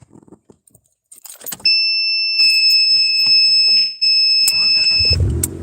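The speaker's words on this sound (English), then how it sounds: "Sorry for the heavy beeping." A steady, piercing electronic beep tone holds for several seconds, briefly dips, then resumes, loud and close, with some rustling handling noise before and beneath it.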